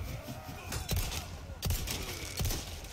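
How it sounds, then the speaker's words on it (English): Gunfire from Resident Evil 4: three sharp, fairly quiet shots spaced well apart, over a constant background of game ambience and music. "I'm shooting everything"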